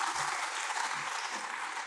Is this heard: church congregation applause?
yes